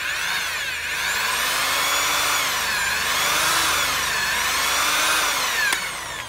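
A power drill bores through a soft, thin motorbike carburetor part, a close, loud, steady high-pitched whine with slowly wavering pitch as the bit works the metal, ending abruptly.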